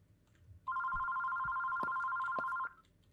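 A single steady electronic phone ring sounds for about two seconds, loud and close, in an otherwise quiet room with a few faint knocks.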